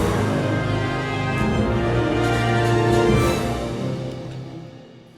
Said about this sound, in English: which is this big orchestral build-up intro.